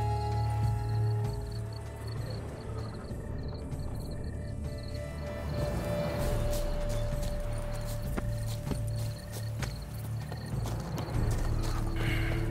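Horse hooves clip-clop steadily in The Witcher 3: Wild Hunt's Blood and Wine expansion on PC, a continuous trotting rhythm over a dense droning background of game ambience, with no talk.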